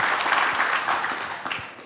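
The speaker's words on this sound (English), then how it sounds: "That does deserve a round of applause." A crowd at a space-themed outreach event breaks into warm applause, a full, loud patter of many hands that fades slightly toward the end.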